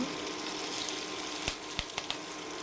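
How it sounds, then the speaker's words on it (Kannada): Chillies frying in melted butter for butter masala rice, a steady close sizzle and crackle with a few sharp pops near the end, no voices. "ಬೆಣ್ಣೆ ಚೆನ್ನಾಗಿ ಕರಗಿದ್ಮೇಲೆ ಅದಕ್ಕೆ ಮೆಣಸಿನ್ಕಾಯಿನ ಆ್ಯಡ್ ಮಾಡ್ಕೋಬೇಕು"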